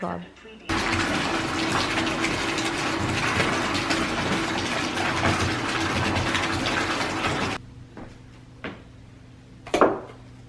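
A bathtub fills from the tap on a stormy day. A steady, loud rush of running water pours for about seven seconds, then cuts off, leaving a quiet room with a few light knocks and a brief splash near the end.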